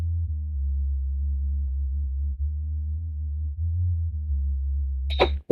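An ocarina line played as a sub-bass track holds a steady, very low, pure tone with slight pitch shifts, ending in a brief click and noise burst.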